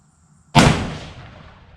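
Single sharp rifle shot fired while sighting in a Riton Optics scope on a warm barrel, a loud close crack with a long decaying echo tail and no talking.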